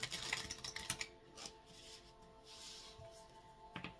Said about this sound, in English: So we're going to give this deck 3 shuffles, and then we'll cut by 3s